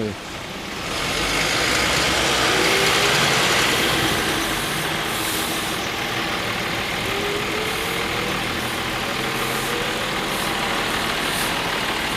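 A bus engine rumbles loudly and steadily close by while a Dualtron electric scooter rides alongside and overtakes it in city traffic between Beylerbeyi and Üsküdar, with wind noise throughout and talk over it.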